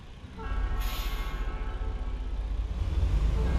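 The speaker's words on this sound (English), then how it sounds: "as the train's coming by" A train rolls past in the video game American Truck Simulator, a steady rhythmic clatter of wheels over rail joints with a low rumble that builds slightly, heard from inside a truck cab.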